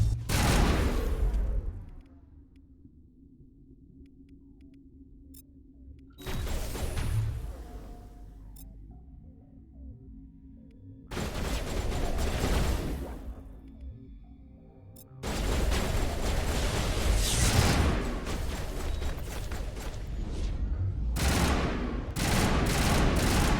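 Firefight in the video game Mass Effect: bursts of rapid gunfire and heavy volleys come in several loud waves, separated by quieter rumbling pauses, then build into sustained dense shooting.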